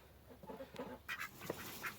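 Ducks quack in a straw-bedded hoop house coop kept off grid in extreme cold, with several short, moderately loud calls scattered over a couple of seconds.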